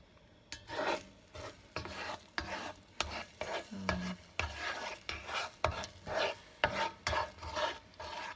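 A utensil stirs and scrapes scrambled eggs around a non-stick pan, a series of soft rhythmic scraping strokes roughly every half second with faint sizzling underneath, close and fairly quiet, no talking.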